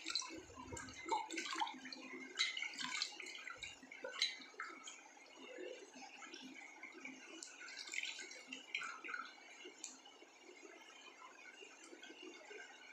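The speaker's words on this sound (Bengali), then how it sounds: "একদম ঠান্ডা জল দিয়ে মুখটা পরিষ্কার করে নিচ্ছি" Splashing and dripping water sounds as a face is washed with cold water at a sink during a home facial, with irregular close splashes and trickles continuing alone without talk.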